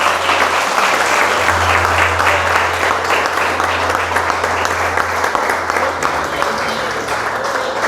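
Church congregation applauding in praise of Jesus Christ, a dense, steady wash of many hands clapping throughout, loud and sustained with a low hum beneath.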